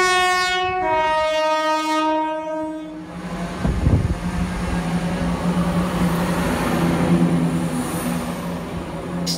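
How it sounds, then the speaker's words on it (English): A Class 170 diesel multiple unit train pulls away on a service toward Ipswich, its horn sounding in loud, steady tones at first, then giving way to a continuous rumbling engine roar and rail noise as it departs. "Here's another 170 departing for Ipswich with some good times."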